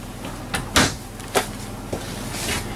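A few short wooden knocks and slides, like a full-extension drawer in a 2016 Thor Miramar motor home pulled open and pushed shut, spaced irregularly in a quiet room.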